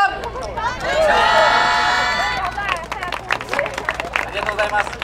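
An audience at the Gamagori festival in Japan claps for a dance team. A sustained raised voice comes first, then a flurry of quick, irregular handclaps and crowd chatter follows, close and lively.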